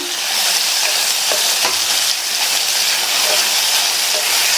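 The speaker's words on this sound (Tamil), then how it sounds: "நல்லா மறுபடியும் ஒன்று போல் பரட்டி விட்டுட்டு" Vegetables stirred and sautéed in a pan on the stove, giving a loud, continuous frying sizzle close by, broken by a few scraping strokes of the spoon, with no talking.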